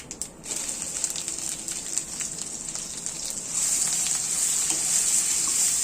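Grated raw mango frying with curry leaves in a pan for mango rice gives a close, crackling sizzle with scattered pops, which grows louder and fuller toward the end, with no voices.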